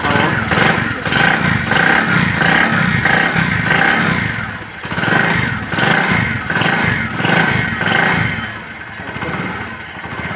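A Bajaj Platina 100cc motorcycle engine runs steadily nearby, a loud, even chugging drone with a slight rhythmic pulse and faint clatter, rising and dipping gently as it idles.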